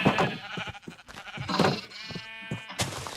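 Sheep and lambs bleating in Minecraft with the Galacticraft mod, a rapid series of loud, wavering baas from several animals overlapping close by, with no talk.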